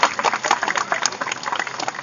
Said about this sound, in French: on peut les applaudir bien fort parce que c'est pas facile